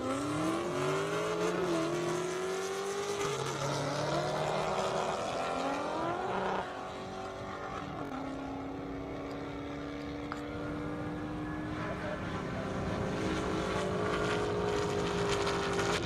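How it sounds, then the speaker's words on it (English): BMW M5 and Dodge race cars run together at an airstrip drag event, with loud, sustained engine roar and a rising whine as they accelerate through the gears, easing briefly before building again. "We got the M5 and we got the Dodge right there."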